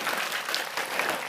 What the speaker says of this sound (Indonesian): Tepuk tangan untuk ngundang lagi.